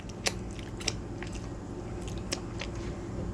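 Someone bites into crunchy garlic toast topped with Parmesan cheese, parsley and red pepper, making a few sharp, close crunches over a steady background hiss.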